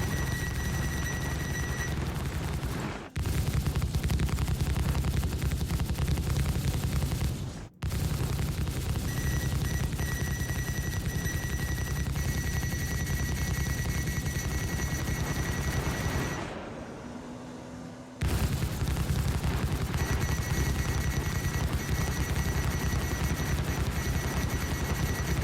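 Anvil Centurion ship guns in Star Citizen fire at a passing Scorpius fighter, a steady, dense rumble of rapid weapon fire with engine drone that drops out briefly a few times before resuming.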